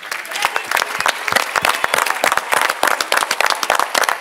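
Dense, lively applause from a theatre audience for the cast of a comic stage play, many hands clapping quickly and unevenly, close and loud, with a faint voice under the clapping.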